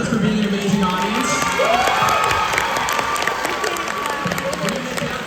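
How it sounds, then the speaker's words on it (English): A live crowd of fans at a BFDI tour Q&A show in Los Angeles applauding and cheering loudly, with sustained clapping, high shouts and whoops, and a voice rising through the noise. "Give yourselves a round of applause for being an amazing audience."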